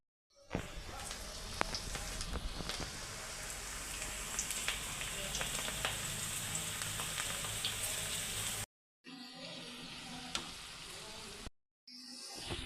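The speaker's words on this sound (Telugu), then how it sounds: "ఇప్పుడు ఇవి ఫ్రై అయిపోతున్నాయి కదా, ఇంకొంచెం ఫ్రై అవ్వాలి కదా" Cabbage pakoda frying in hot oil gives off a steady, bright crackling sizzle, fairly close, continuing almost throughout with two brief cuts to silence near the end.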